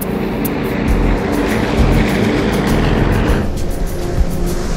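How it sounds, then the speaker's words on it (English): A steady, loud airliner engine drone fills the space, broad and unbroken, like aircraft engines heard from inside the cabin, on a flight over the Grand Canyon. "The engines sound good, Mr. Fiore."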